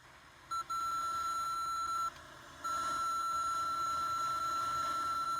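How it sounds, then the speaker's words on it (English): A faint electronic beep from a Power Acoustik CP-650 car stereo head unit sounds in long steady stretches, briefly cutting out before resuming continuously, over low background hum. "I have to deal with this ridiculous beeping."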